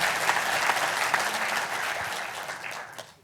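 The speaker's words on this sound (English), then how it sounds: "How about a nice round of applause for the sponsors?" Audience applause at the 37th Annual National Mining Hall of Fame Induction Ceremony gala, a dense and steady round of clapping from a large crowd that fills the whole stretch and tapers slightly toward the end.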